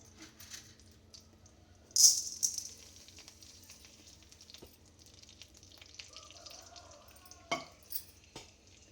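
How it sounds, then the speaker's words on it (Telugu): Tempering for upma sizzling in hot oil in a pan, with a sharp burst of crackle and spatter early on, then quieter sizzling, a few clinks and another short spit near the end, close up and without talk. "తిరగమాత పెట్టుకున్నాం ఉప్మాకి."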